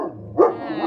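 A small dog gives one short, sharp bark close by, after a brief quiet lead-in.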